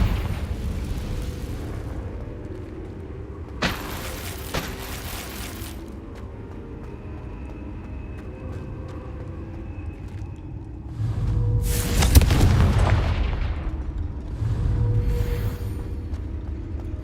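A Confringo fire spell blasts in Hogwarts Legacy, heard as a series of explosive bursts with a heavy rumbling boom building toward the end, alongside lighter magical pops over steady background game ambience.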